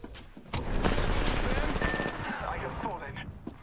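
Video game gunfire, a loud burst of shots that settles into sustained rattling fire and mechanical noise, close and dense over about three seconds.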